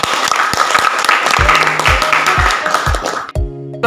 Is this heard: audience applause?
yes